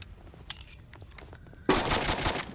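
Pistol fire in the Roblox BRM5 shooter: a few scattered sharp cracks over quiet game ambience, then a sudden loud burst of rapid gunfire that carries to the end.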